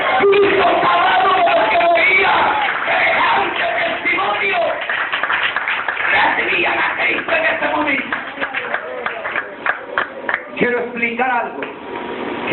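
A church congregation breaks into loud, sustained clapping and cheering during an evening service, many hands at once with shouts rising over it, thinning into scattered claps toward the end.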